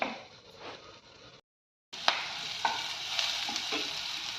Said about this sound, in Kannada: ಹಸಿಮೆಣಸಿನ್ಕಾಯಿ ಹಾಕೋತಾ ಇದ್ದೀನಿ